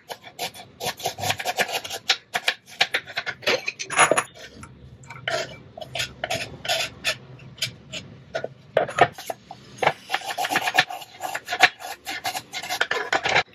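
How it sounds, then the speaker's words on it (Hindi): Onions being chopped with a knife on a board while making pink sauce pasta: a close, busy run of crisp, irregular cutting taps and scrapes, with no talking. "सबसे पहले हम अनियन चॉप करके उसे डालेंगे अपने पॉट में"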